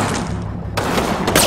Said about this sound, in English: luckily that MP40 didn't hit anybody